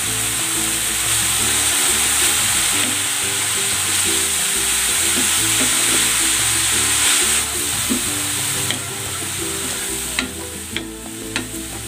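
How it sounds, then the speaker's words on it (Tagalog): Bean sprouts and cabbage stir-frying in a pan with oyster sauce, a steady loud sizzle and hiss with rhythmic stirring scrapes, close and continuous, with a few clinks near the end. "Ilalagay ko na itong toge at ang repolyo."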